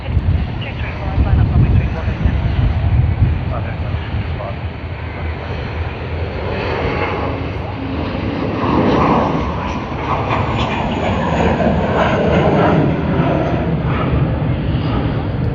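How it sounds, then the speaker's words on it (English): A Jetstar A320 airliner, flight JQ660 bound from Sydney to Ayers Rock, rumbles through its takeoff roll at Sydney Airport, a broad, distant roar that swells and holds steady with wind buffeting the microphone. "Sydney to Ayers Rock, JQ660 on the A320 has begun its takeoff roll"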